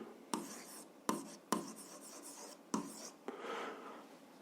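Pen on paper writes out an algebra exercise, close and quiet, in scratchy strokes broken by several short lifts and taps, with no talk.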